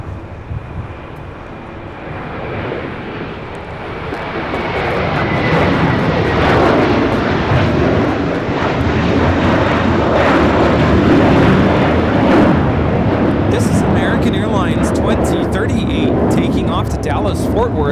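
A Hawaiian Airlines flight from Honolulu landing at LAX, its jet engines swelling from a moderate rumble into a loud, broad roar that holds steady, with people talking underneath.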